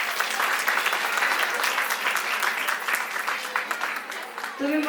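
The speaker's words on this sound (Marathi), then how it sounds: "समोर टाळ्या होऊ द्या" Steady, dense applause from an audience at an Arya Vaishya community cultural event in Pune, sustained and fairly loud throughout, with a voice speaking over it near the end.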